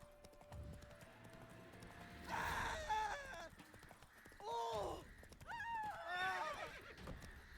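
A horse in The Witcher 3 whinnies several times in loud, wavering calls while its hooves clip-clop along, the neighs coming in three distinct bursts against quieter in-game ambience.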